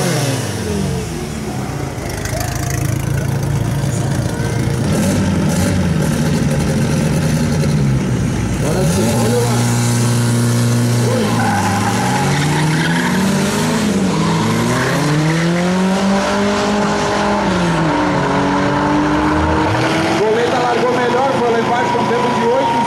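A Volkswagen Gol street drag car races down a strip in Guaporé, RS, its engine roaring loudly and climbing through several rising and falling revs as it shifts gears. Crowd and commentary can be heard beneath the engine.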